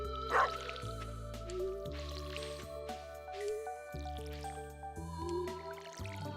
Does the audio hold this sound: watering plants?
yes